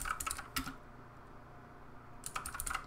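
Close, quiet keystrokes on a computer keyboard as a command is typed into a text-based game: a quick burst of taps, a pause of about a second and a half, then another rapid cluster of clicks.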